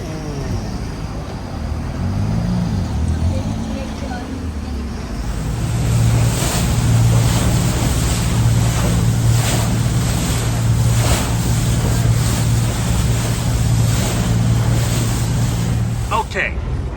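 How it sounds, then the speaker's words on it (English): A small boat motors along the Amazon, its engine a steady low drone over rushing water and wind, getting louder after the first few seconds and carrying on throughout. "the way to get there was by this wonderful little boat"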